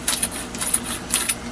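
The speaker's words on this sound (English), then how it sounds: "I just take a chamfering tool, do the inside," A chamfering tool works the inside of a brass rifle cartridge case during ammunition reloading, giving several bright metallic scraping and clinking strokes in quick succession, close and fairly loud.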